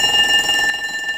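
An alarm ringing loudly and steadily with a sharp electronic buzzing tone, continuous and close, slightly dropping in level partway through.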